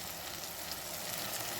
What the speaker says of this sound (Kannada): ಬಾಳೆ ದಿಂಡಿನ ಪೀಸ್ಗಳನ್ನ ಇದಕ್ಕೆ ಹಾಕ್ಕೊಳ್ತೇನೆ.